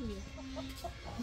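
Short, low clucks from black hens being picked out and weighed at a poultry sale, coming through steady background noise and a busy market hum.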